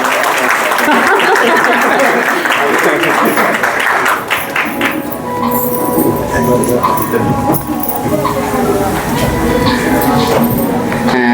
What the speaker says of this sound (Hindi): जोरदार तालियां आप सभी की होनी चाहिए एक बार